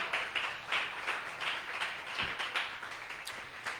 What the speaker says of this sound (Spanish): Alguien puede aplaudir la gloria del Señor en esta noche.